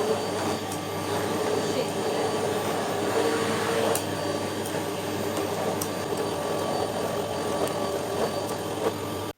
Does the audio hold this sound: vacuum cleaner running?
yes